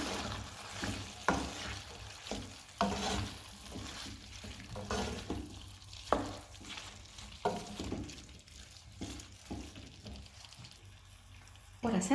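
Bell peppers sizzle in a pan on the stove, a steady low frying hiss broken by repeated scrapes and clatters of stirring, with a person talking over it.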